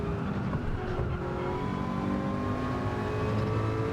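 Ford GT Spec II LM race car engine in Gran Turismo 7, a steady, fairly quiet whine and drone held at constant pitch, running on without pauses or voices.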